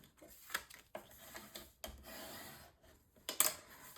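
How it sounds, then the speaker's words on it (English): A tool burnishes a crease into paper for a mini album with soft, quiet rubbing strokes, several short scrapes and a longer smooth pass, all close and faint. "And I'll go ahead and burnish this down."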